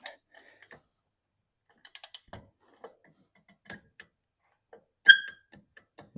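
A torque wrench set to 15 foot-pounds clicks while tightening bolts on a Can-Am clutch, giving a sharp close ratcheting click among scattered faint mechanical ticks and taps.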